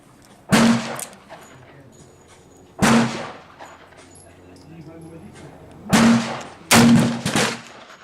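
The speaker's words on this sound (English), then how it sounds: "6 shots with the Magnum primers using the 686" Four sharp, loud shots at uneven intervals from a 686 revolver loaded with Magnum small pistol primers, each crack followed by a short ringing tail.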